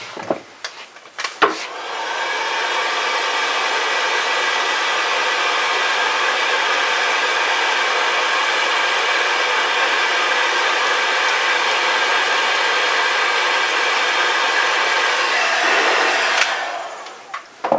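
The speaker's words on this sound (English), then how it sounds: "Now we'll heat gun it." A heat gun shrinks heat shrink tubing on headlight wiring for a Dodge 2500, switching on after a couple of clicks into a loud, steady blowing roar with a faint whine, running evenly before shutting off.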